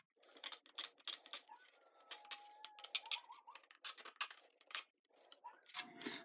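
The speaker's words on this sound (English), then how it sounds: "I'm going to take my pocket knife, go around the back, and remove any flashing or plastic that's stuck to the back" A pocket knife scrapes plastic flashing off the back of a foglight switch in short, faint, irregular scratches and clicks, close up, with small pauses between bursts of strokes.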